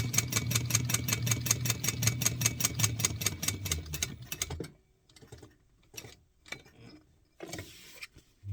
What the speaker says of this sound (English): we're just sewing around the 3 sides of this pocket to attach it